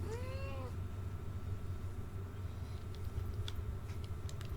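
A cat gives a short, clear meow near the start, then soft ticking and faint clicks over a low steady hum for the rest.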